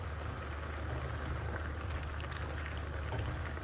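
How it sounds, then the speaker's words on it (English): Spicy hot pepper soup being mixed in a pot, heard as a steady, dense bubbling and hissing texture, close and continuous without breaks or voices. "Now she's mixing the soup"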